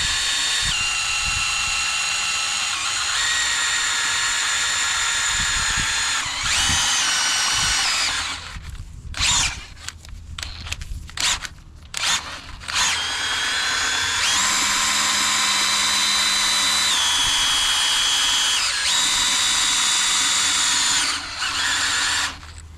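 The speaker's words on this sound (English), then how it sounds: "It's just a drill, and then I put the paddle on it" A power drill whines continuously at high speed, its pitch shifting and briefly stuttering as a paddle churns thick self-leveling floor compound.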